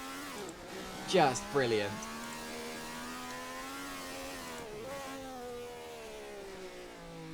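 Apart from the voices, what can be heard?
1967 Honda F1 car engine revving in a sim racing video game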